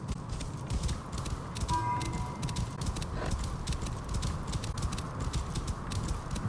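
Hooves of a horse ridden along a track, a steady, continuous clip-clop of footfalls at moderate volume with a faint whinny-like tone partway through, no speech over it.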